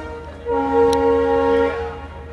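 A train horn at a station sounds one steady, droning blast of about a second over a low background rumble.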